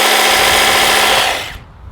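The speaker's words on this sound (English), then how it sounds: "Husqvarna, the new one, the 520i HD60 professional range." A Husqvarna 520i battery hedge trimmer from the HD60 professional range runs with a loud, steady electric whir and buzz of reciprocating blades, close by, then winds down and stops after about a second and a half.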